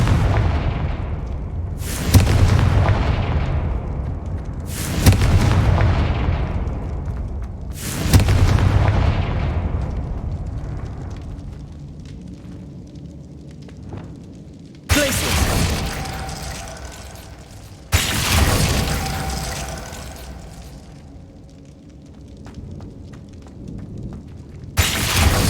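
Loud Confringo blasting spells explode in Hogwarts Legacy: five heavy booming blasts, each with a sharp crack and a long rumbling decay, the first three close together and the last two after a brief lull.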